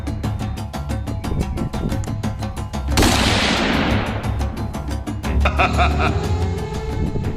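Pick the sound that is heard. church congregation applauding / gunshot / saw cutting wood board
gunshot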